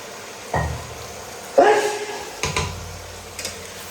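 Green jackfruit kofta mixture being stirred and fried in oil on a stove: a few distinct scraping and clinking stirring strokes over a faint low sizzle, spaced about a second apart, with a person speaking in between.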